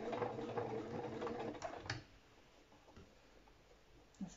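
An electronic sewing machine stitches fabric in a fast, faint, rhythmic whirring patter for about two seconds, then stops, leaving quiet room tone with a soft bump at the end.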